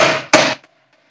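Two sharp, loud strikes of a heavy wooden mallet on a chisel while cutting a mortise in pre-industrial joinery, the second blow hitting right after the first, each followed by a brief ringing decay into silence.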